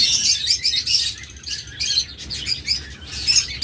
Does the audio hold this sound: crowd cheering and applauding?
no